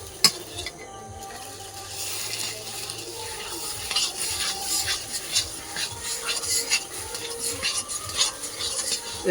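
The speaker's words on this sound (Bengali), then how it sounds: "হলুদ লবণ দেওয়ার পরে খুব সুন্দর করে কচুটা কিন্তু কষিয়ে নিতে হবে" Taro being stirred and sautéed with turmeric and salt in a pan, scraping stirring strokes and soft sizzling growing busier, with a brief voice and clinks early on.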